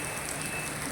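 Heavy rain falls steadily in Goa, a dense, even hiss of drops on surfaces with no voices, close and continuous.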